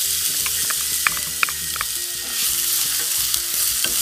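Crushed shallots and garlic sizzle and fry in hot coconut oil for a jackfruit stir fry, a steady close crackle with occasional stirring scrapes and clicks, no voices.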